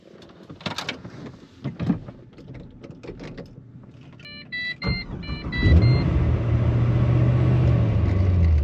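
A supercharged Pontiac GTO with a ProCharger: a few quiet clicks and electronic chime tones come first, then the engine cranks and catches with a loud burst and settles into a steady, rumbling idle as it warms up.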